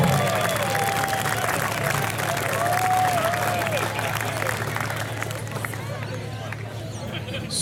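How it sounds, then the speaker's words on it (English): Audience at an outdoor BBQ competition awards ceremony claps steadily, a dense ongoing round of applause with some crowd babble and cheering, gradually thinning toward the end. "give a big round of applause for Ham Dunk Barbecue"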